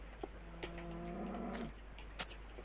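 A Minecraft cow lets out one drawn-out, tonal moo, clear and fairly close, with a few soft game clicks and thumps before and after it.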